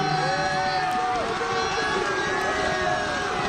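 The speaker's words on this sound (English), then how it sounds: "let's hear one more time from the Lewis and Clark crowd" A crowd at Spokane Arena cheers continuously through a Lewis and Clark basketball game, a dense roar of voices with whistling tones and babble and no break.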